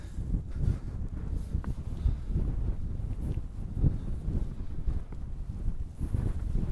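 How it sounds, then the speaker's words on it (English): Wind blowing across an open Peak District hillside near a gritstone outcrop, a steady low rumbling gust with buffeting on the microphone throughout, no voices. "The wind's picking up."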